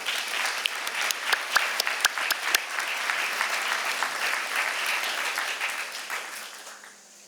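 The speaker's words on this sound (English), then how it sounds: "if we could give them a round of applause" An audience at a Chautauqua property owners' gathering gives a round of applause for the house builders, dense clapping holding steady for several seconds before tapering off.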